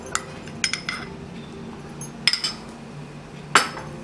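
A spoon clinks against a bowl while chicken momo stuffing is mixed with oil, giving a few sharp metallic taps spread between quieter stirring, close and with no talking.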